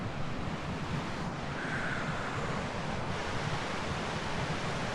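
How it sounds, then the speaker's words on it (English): Steady, loud broadband roar of rushing white water on a river near Siffleur Falls, continuous and close with no talk. "A lot of white water and stuff that you don't want to hit."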